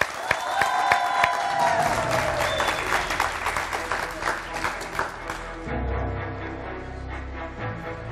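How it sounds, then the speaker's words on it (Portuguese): Audience applause at a Portugal's Got Talent TV show, a steady round of clapping with some cheering that fades into background music partway through. "Uma salva de palmas para ver."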